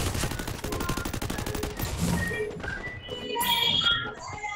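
Rapid gunfire from a Free Fire battle-royale game, dense bursts of shots fired in quick succession at loud level, followed by chiming game effects, with no voices over it.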